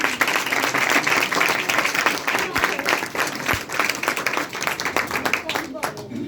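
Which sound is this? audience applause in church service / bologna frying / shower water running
audience applause in church service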